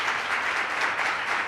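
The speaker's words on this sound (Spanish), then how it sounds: "El aplauso de la gente." Dense, steady applause from an audience thanking panel guests at an international journalism forum, sustained and even throughout with no voices.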